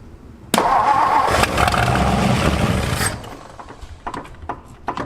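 The engine of a 1964 Ford F250 dump truck cranks loudly for about two and a half seconds with a grinding starter whir, fails to catch, and falls away into scattered clanks and small mechanical knocks.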